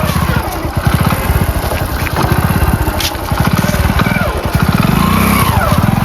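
A motorcycle engine idles and revs nearby, a loud rapid putter that swells slightly and holds steady throughout.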